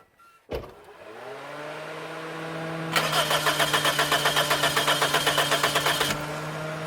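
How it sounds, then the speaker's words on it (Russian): Car starter cranking a reluctant engine: a sharp click, then a rising whine and a few seconds of rapid rhythmic cranking pulses before it cuts off, with a steady hum underneath. "Что-то опять, друзья, у нас моторишка не очень хочет заводиться."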